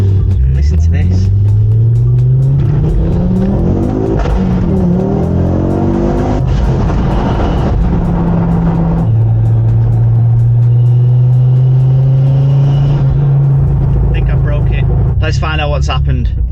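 A Mk2 Ford Focus RS, a wrecked 150,000-mile car under restoration, revs its engine while driving, the note rising and falling in long sweeps close by, with people talking over it.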